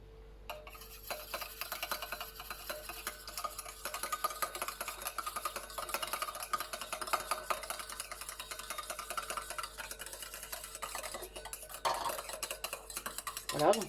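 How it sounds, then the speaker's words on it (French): Rapid, steady whisking beats hydrosol into oil in a small container to make a cosmetic emulsion, a continuous close rattling scrape that runs without pause and ends in a few louder knocks. "on rajoute l'hydrolat dans l'huile et on bat"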